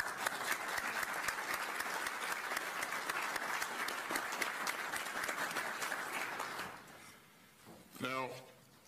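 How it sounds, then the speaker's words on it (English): Sustained applause from an audience at a session on Ukrainian defense greets the assembled military leaders, a thick wash of clapping that fades out near the end before a voice begins speaking. "Let's give them all a round of applause."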